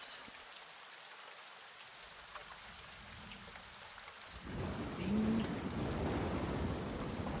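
Rain and thunder ambience from a Dungeon Alchemist tabletop game map, a soft steady patter that swells midway into heavier rain with a deep rolling rumble, no voices.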